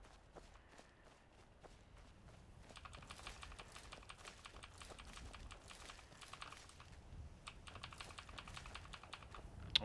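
A computer keyboard clicks rapidly and continuously as someone types during a game session, the keystrokes growing denser and louder after the first few seconds, close to the microphone with no talk.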